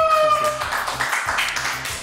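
A studio audience applauds a television show host with dense, steady clapping that follows a brief musical tone.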